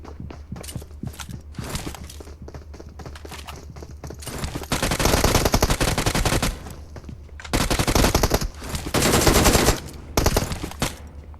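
MK14 rifle fire in PUBG Mobile, loud rapid shots in dense sustained bursts with brief pauses between, over faint footstep-like tapping earlier on.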